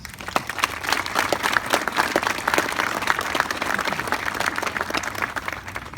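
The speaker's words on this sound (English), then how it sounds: "I think that deserves a round of applause." An audience at a Veterans Day celebration breaks into sustained applause, many hands clapping in a dense, even patter throughout, with no talking over it.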